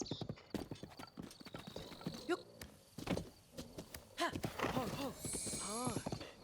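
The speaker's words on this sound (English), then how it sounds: "I sensed that this was a better horse." Horse hooves clip-clop in a quick rhythmic gallop in Breath of the Wild, with a neigh and snorts, under game music and a player talking.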